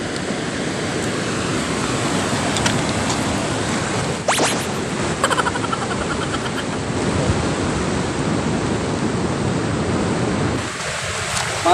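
Sea waves and current during a fishing trip, a continuous loud wash of surf and water noise with wind buffeting the microphone and a few brief clicks.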